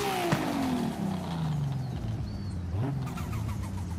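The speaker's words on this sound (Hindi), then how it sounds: "देखिए टर्बो की साउंड कितनी प्यारी साउंड है" A 2019 BMW Z4 Roadster in Forza Horizon revs loudly up close, its engine note falling and rising through gear changes with a turbo whistle over the exhaust growl.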